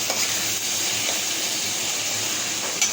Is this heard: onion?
yes